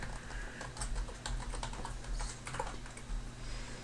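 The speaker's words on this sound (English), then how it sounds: "It's going to type in iReviews15 right here." Text typed on a computer keyboard for a graphics tutorial: soft, irregular key taps in small runs over a steady low electrical hum, fairly quiet and without speech.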